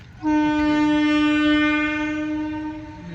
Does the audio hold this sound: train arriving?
yes